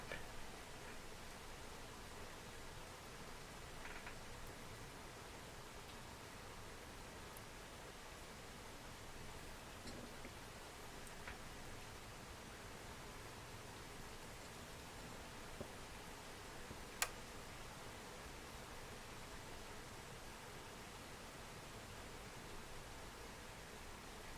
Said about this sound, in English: I just have the sound of rain